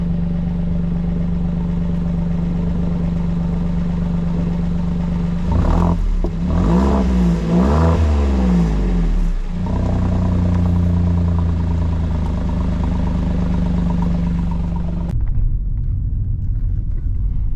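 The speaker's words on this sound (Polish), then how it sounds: "zatem praca wydechu jest dość zadziorna." Lancia Ypsilon 1.0 three-cylinder mild hybrid engine idles with a gruff exhaust note, then revs sharply in several quick bursts before settling back to idle and shutting off abruptly near the end, heard up close with no talking.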